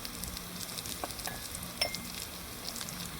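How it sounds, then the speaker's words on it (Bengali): Soft sizzling of fried onions with turmeric, salt and chilli powder in a pan, scattered pops and a few scraping stirs, fairly quiet and steady throughout. "আমি সব কিছু একসঙ্গে একটু ভেজে নিচ্ছি সুন্দর করে।"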